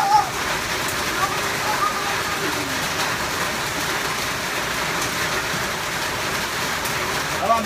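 Steady rain patters and drips in a dense hiss, close and continuous, with faint voices now and then beneath it.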